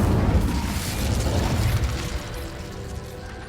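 An Incendio fire spell cast in the game Hogwarts Legacy bursts with a loud, rumbling whoosh of flame that swells briefly and then fades over a few seconds.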